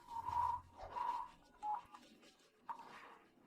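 Telephone keypad dialing tones for placing a call, a few steady beeps spaced out over a few seconds, with faint rubbing and background noise between them.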